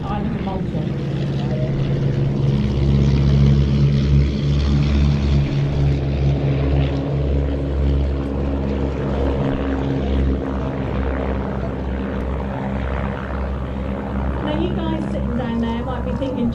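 Propeller aircraft, including Hurricane and Spitfire types, fly in formation at an RAF Mildenhall air show, a sustained droning engine roar that rises and falls under continuous commentary.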